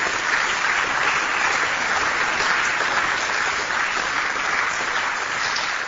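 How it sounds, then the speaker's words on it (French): Colleagues in a parliamentary assembly give sustained, even applause for the visiting president of the French Senate, a dense steady roll of clapping from a large room with no speech. "Je propose, mes chers collègues, que nous applaudissions notre collègue président du Sénat français."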